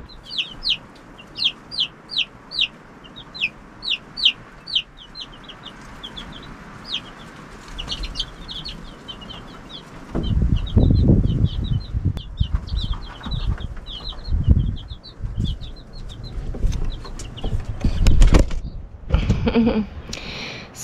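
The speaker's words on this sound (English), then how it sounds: "So I'm just checking out the little chickies just to make sure that they're doing okay." Baby chicks in a coop under a brooder give rapid, high, thin peeps close by, clear at first, then fainter beneath dull knocks and handling noise.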